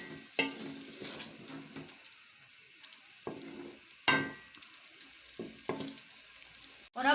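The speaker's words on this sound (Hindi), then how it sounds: "अब हम मूंग की दाल को इस मसाले में अच्छे से मिक्स कर लेंगे" Moong dal being stirred into a frying spice masala in a pan, dhaba style, with repeated scraping stirs and a steady sizzle underneath, close and fairly loud, no talking.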